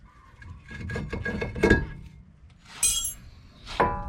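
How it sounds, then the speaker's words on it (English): A front brake rotor being pulled off a 2013 Mazda 5, giving a string of close metallic clinks and knocks followed by a sharp clank and a ringing scrape. "Removing my rotor."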